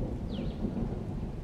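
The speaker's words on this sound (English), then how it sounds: "The rumbling clouds and the sound of thunder" A deep, continuous roll of thunder rumbles low and steady, with rain hissing faintly over it.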